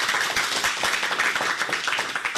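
Applause from an audience welcoming schoolchildren at a school program, dense steady clapping filling the whole moment, loud and close.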